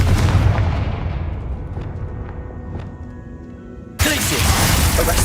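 Confringo explosive spell blast in Hogwarts Legacy, a loud booming impact that rumbles and fades over several seconds before another heavy burst cuts in near the end.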